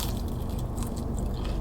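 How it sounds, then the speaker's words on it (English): Someone bites and chews French fries close to the microphone, a brief run of crisp crunching and mouth noises with no talking. "Oh, y'all hear that crunch?"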